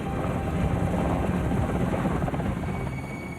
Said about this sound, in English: 79 soldiers mounted up in Black Hawk helicopters and flew over the Pakistan border at midnight